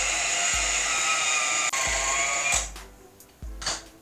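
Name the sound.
handheld electric mixer mixing peanut butter cookie dough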